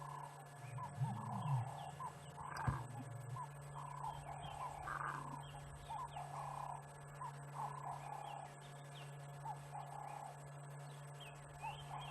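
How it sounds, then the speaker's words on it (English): Cape turtle doves call repeatedly in a steady rhythmic pattern at a moderate distance, over a constant low hum and outdoor ambience at sunset in the Sabi Sand reserve. "The Cape turtle doves, or the ring-necked doves, are making such a noise."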